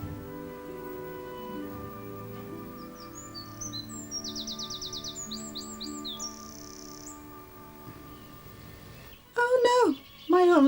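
Garden birds around the feeders chirp and twitter in quick, bright trills over a soft musical background, with a couple of louder, closer calls near the end.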